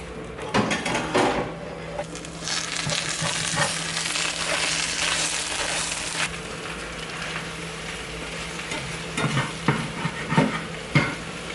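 One whole egg, egg whites and spinach frying in a pan, a steady close sizzle running throughout with scattered clicks and scraping knocks of a utensil, no voices.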